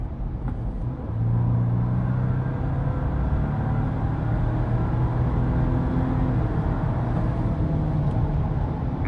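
A 2025 Ford Ranger Lariat 4x4 pickup in sport mode accelerating, its engine a steady, loud low rumble that swells after the first second and holds through the drive.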